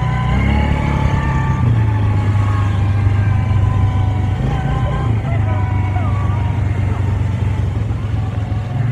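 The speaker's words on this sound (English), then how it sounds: "this thing's got a lot of driveline noise" An old Polaris 425 ATV on a farm rides along with a steady low engine drone and rattling driveline whine throughout, loud and close, with a voice speaking over it.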